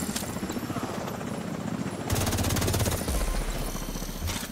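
Helicopter arriving in the Roosevelt level of a shooter video game, with steady rhythmic rotor chopping that grows louder and closer partway through, a deep engine rumble underneath and no voices.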